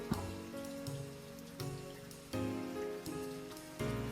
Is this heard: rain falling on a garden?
yes